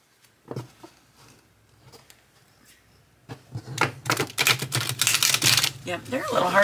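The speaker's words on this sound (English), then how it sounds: "I've not riffle shuffled these apparently." A stiff Rider-Waite tarot deck is riffle shuffled up close: a few soft card taps, then a rapid fluttering burst of cards snapping together that builds toward the end.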